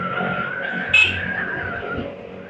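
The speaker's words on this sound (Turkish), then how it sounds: "Şimdi şu rampada bir test ediyoruz motorumuzu. Açtık gazı." A 200cc Volta APEC APX7 scooter revs its engine while accelerating up a ramp: a steady, close droning whine with a brief louder surge near the middle, then a slight drop at the end.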